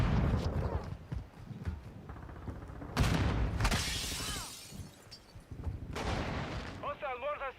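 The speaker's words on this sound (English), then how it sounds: "Hostile mortar strike in the area" Heavy impacts from a mortar strike land in Call of Duty Modern Warfare II, sounding like booming blasts with shattering debris. They arrive in separate loud hits mixed with battlefield noise, and voices speak throughout.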